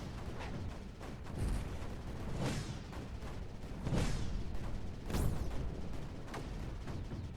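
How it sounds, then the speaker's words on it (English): Muffled booms and crackling blasts from the video game Creeper World 4 fire in quick succession, several sweeping bursts layered over a dense, rumbling bed of explosions at a low, steady level. "There's so many explosions."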